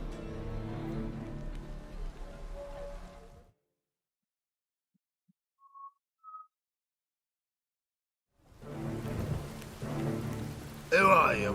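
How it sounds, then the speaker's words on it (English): Thunderstorm rain pours steadily in The Witcher 3 video game, a dense wash of rainfall that drops out for a silent stretch before returning loud, with a rumble near the end. "A storm, damn it."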